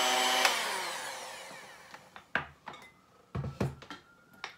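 Pumpkin roll batter being mixed by hand in a bowl, dry ingredients folded into wet, with a whisk or scraper giving a burst of scraping and clatter, then scattered close knocks and taps against the bowl.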